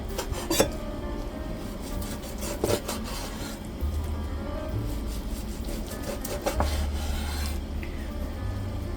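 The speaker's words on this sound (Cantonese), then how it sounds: "我哋將呢個石斑切片，唔使太薄，亦都唔使太厚" A knife slices a grouper fillet on a board, with repeated short rasping cuts and taps spaced through a steady background.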